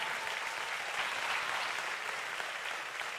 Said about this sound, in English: Come on, give the Lord a hand clap right there.